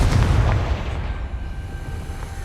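A Confringo spell explosion in Hogwarts Legacy booms loudly and close with a heavy low rumble, then fades into a rolling decay over a couple of seconds, no talk.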